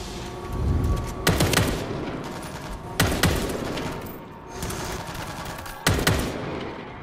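Gunfire in the zombie shooter World War Z: three loud, sharp bursts of shots about three seconds apart, each with a decaying tail over a rumbling game background.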